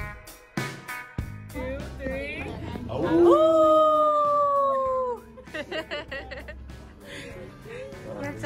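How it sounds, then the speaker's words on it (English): A single drawn-out wolf howl rises and slowly falls for about two seconds at Great Wolf Lodge, Garden Grove, California, surrounded by speech and other sounds before and after. "That's a howl for your ears."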